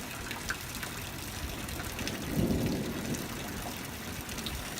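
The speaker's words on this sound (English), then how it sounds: "You guys want to see the rain?" Steady rain falling outdoors, coming in waves, with water running and gushing nearby; a continuous broadband wash that swells briefly in the middle, with no one speaking.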